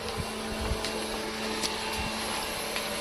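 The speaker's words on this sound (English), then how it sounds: "So if you can see over there, there's a bilge pump, and it's floating around in the seawater" Small electric bilge pump floating in seawater and sucking water into a boat, a steady whirring motor drone with hissy broadband noise, constant and fairly close, with faint clicks and bumps over it.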